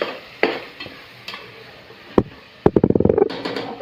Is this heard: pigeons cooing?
no